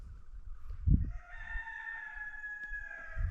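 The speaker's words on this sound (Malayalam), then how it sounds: "കോഴിയൊക്കെ കൂന്നേ ഉള്ളൂ രാവിലെ" A rooster crowing in the morning near a wadi in Oman, one long drawn-out crow from a moderate distance over low rumbling background noise, with no talking.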